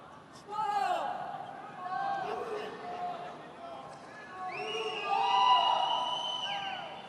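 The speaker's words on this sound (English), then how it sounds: "the crowd was shouting for the Shido" A crowd shouting and cheering in the arena at a judo Grand Prix bout in Qingdao. The roar swells under an announcer's voice and peaks near the end.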